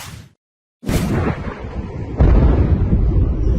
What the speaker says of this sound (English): multiple explosions in Chabahar